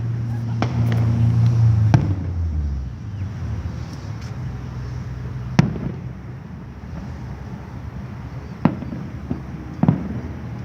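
Fireworks bursting outdoors at night: sharp separate bangs spaced through the clip, a few loud cracks with low rumbling in between, while a low droning tone holds at the start and some voices come and go.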